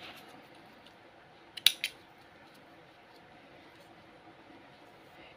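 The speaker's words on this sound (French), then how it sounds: "on coupe le fil." Scissors snip the yarn during crochet work on a sweater with plastic rings: a short double cut near the middle, close and fairly clear, with a faint click at the end over a quiet hiss.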